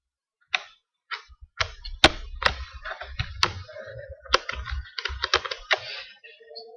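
Computer keyboard keys pressed in an irregular series of sharp clicks and taps, close and crisp, with short pauses between bursts and no talk.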